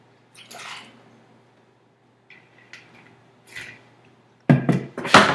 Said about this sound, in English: Just going to dump the water out